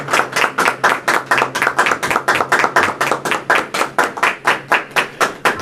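A church congregation claps together during a sermon in a fast, steady rhythm, loud and sustained for several seconds with no voices.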